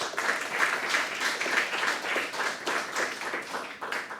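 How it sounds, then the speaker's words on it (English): A book-talk audience claps to welcome the guest author, an even, moderately loud round of many hands that carries on steadily throughout. "allow us to please give Daniel and welcome him with a round of applause"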